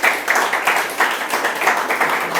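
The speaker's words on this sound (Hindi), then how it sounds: "एक बार अपने आप के लिए ज़ोरदार तालियां दोस्तों" An audience at a shayari poetry performance claps loudly for itself, a short dense burst of applause with uneven pulses, close and clear, no voices heard over it.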